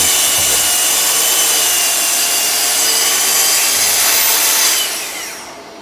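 Wood pieces cut for a mitre station build, a loud steady saw whine close by that holds for several seconds and then winds down at the end.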